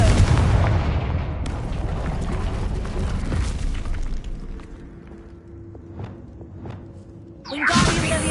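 Explosive blast spell in Hogwarts Legacy, a loud booming detonation with a rushing whoosh that fades into sparse thuds and faint game tones, then a second burst near the end.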